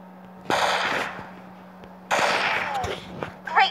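Two loud bursts of gunfire in CrossFire: Legends, each a sharp crack trailing into a rattling decay, separated by a quiet gap, with a steady low hum and faint background effects.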